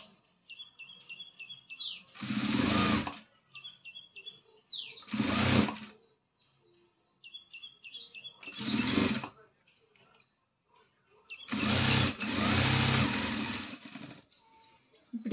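Sewing machine stitching a blouse panel in four loud, rapid bursts of a few seconds each, separated by quiet pauses with faint birds chirping in the background and a person speaking between runs.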